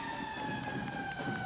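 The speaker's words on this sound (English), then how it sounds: "you can hear the sirens from the Philadelphia Fire Department behind them" A Philadelphia Fire Department siren wails steadily at a distance during the 1992 St. Patrick's Day Parade on Chestnut Street, with a sustained tone over a low crowd and street rumble.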